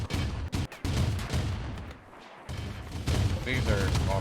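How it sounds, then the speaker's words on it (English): Auto cannons of about 25 mm firing in the video game RimWorld, dense rapid heavy bursts with booming impacts, loud and sustained, with a voice faintly present underneath. "These are auto cannons, they're like 25mm cannons."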